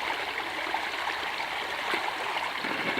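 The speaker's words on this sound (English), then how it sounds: "I want to show you how much water is coming out of that." Steady, rushing water pours continuously out of a dam at close range, a dense roar with no breaks or voices.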